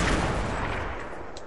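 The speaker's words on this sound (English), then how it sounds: "Who's shooting rockets?" Rockets fired in Fortnite: a loud, sustained blast of explosive noise and rumble that slowly fades over a second and a half, with no talking.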